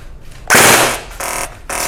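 A toy gun firing in burst mode, loud and close, letting out three rapid buzzing bursts of shots, the first longest, separated by brief pauses.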